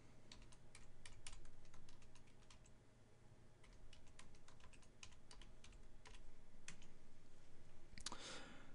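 Someone types on a computer keyboard in a quiet room, entering a search in Google Chrome: a steady run of light key clicks in short bursts with brief pauses, close and fairly soft.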